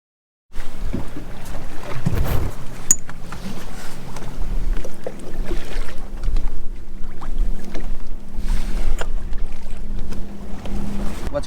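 A Ranger Tug R25 trailerable boat cruising in the Bahamas gives a steady, loud engine drone with water rushing against the hull and wind buffeting throughout.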